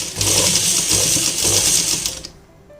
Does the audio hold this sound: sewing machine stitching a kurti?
yes